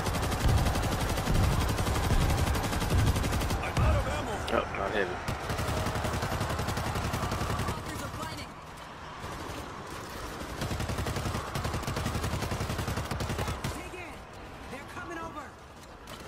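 Sustained gunfire from the video game World War Z during a fight at an army stronghold, rapid bursts and machine-gun rattle throughout, partly under excited voices talking over it.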